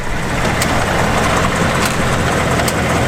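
A 2019 Ford Mustang makes a steering noise from the front wheel well, a loud, steady rumbling drone recorded close, with faint periodic ticks every second or so.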